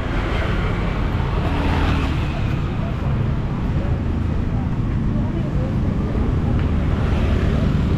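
Busy street traffic near a shopping area on Pantai Kuta Street in Kuta, a constant loud rumble of passing cars and engines with people talking over it.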